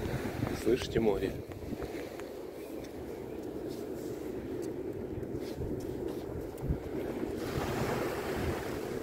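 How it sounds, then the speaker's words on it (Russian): Sea surf washing onto the beach at Coney Island at dusk, a steady broad wash of waves with wind buffeting the microphone throughout, and voices faintly present beneath it. "Слышите море?"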